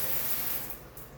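Shower water runs steadily from a wrongly installed mixing valve, a close, even hiss of spray with no talk, easing slightly toward the end.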